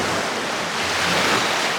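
Sea waves breaking on the beach at Great Yarmouth, a loud, continuous wash of surf with a broad roar and wind buffeting the microphone, and no voices.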